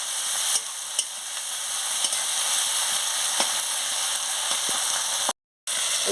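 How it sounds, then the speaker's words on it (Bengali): Spices fried with chili powder in a pan while cooking a Bengali fish curry with pointed gourd, giving a steady close sizzle broken by a few sharp scrapes of the stirring spoon, with one brief dropout near the end. "দিয়ে ভালো করে মশলাটাকে কষিয়ে নিচ্ছি।"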